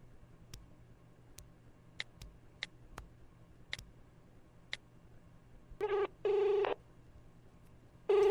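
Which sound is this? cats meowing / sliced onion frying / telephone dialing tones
telephone dialing tones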